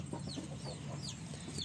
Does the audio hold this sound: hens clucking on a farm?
yes